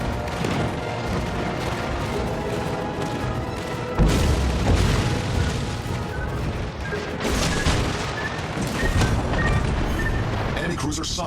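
Explosions as an aircraft carrier is destroyed in a naval warship battle game, with a loud continuous rumble of blasts and a heavy boom around the four-second mark, further bursts following over ongoing battle noise.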